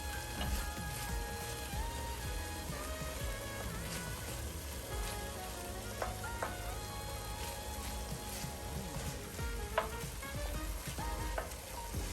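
Tomato paste, vegetables and red wine bubble and sizzle in a pan while cooking a bolognese sauce, a steady close crackling fry with occasional stirring scrapes throughout.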